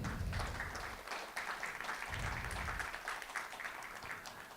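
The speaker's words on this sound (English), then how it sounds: "Round of applause for Keweenaw." An audience at a Michigan conservation learning-series talk claps, a fairly quiet, dense patter of many hands that thins slightly toward the end.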